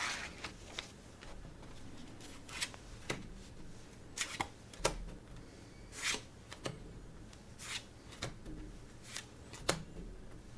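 Playing cards are handled on a table during a Rank & File solitaire game: soft, close snaps and slides of single cards at an uneven pace, each one quiet and crisp against a hushed background, with no talking.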